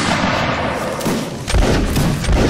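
Musket volley fire in a Napoleonic Wars line battle in Mount & Blade, a dense rolling crackle of many shots overlapping into a continuous loud roar with heavier thumps near the end.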